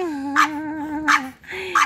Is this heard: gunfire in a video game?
no